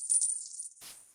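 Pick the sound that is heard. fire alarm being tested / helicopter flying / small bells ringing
small bells ringing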